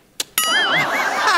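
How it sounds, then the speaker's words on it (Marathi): A bell rings on a Marathi comedy stage: two sharp clicks, then a bright, wavering ring that pulses up and down in pitch for about a second before stopping. "कोण बेल वाजवत आहे?"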